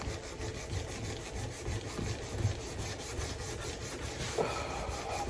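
Steady, close rasping strokes of sandpaper on an old cleaver blade during restoration, a continuous scratchy rub with no talk.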